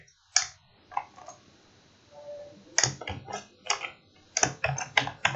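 JavaScript code being typed on a computer keyboard in short bursts of crisp, close key clicks separated by brief pauses, with no voices over the tapping.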